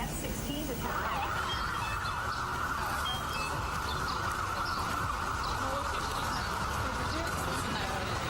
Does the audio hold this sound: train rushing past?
no